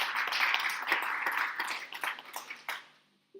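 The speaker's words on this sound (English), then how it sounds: "please a round of applause for our presenter" An audience applauds a presenter after a scientific talk. The clapping is quick and fairly close, then thins out into scattered claps and stops near the end, followed by a brief soft tone.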